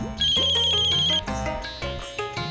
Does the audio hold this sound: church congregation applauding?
no